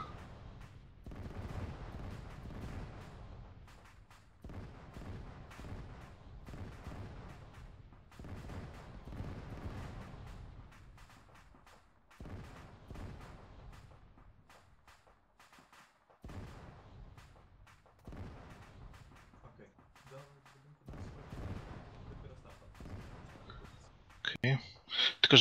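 Gunfire and explosions from a video game rumble and crack in bursts beneath near-constant speech, with a few quieter gaps.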